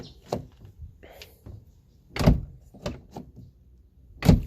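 A Renault Megane 2 car door closes in a series of sharp, solid thunks, several separate shuts with quiet gaps between, the loudest two near the middle and end, with no talk.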